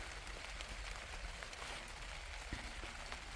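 Heavy rain pouring down on a home garden with tomato plants and a zinnia flower patch, a faint, even, steady wash of drops with no talk.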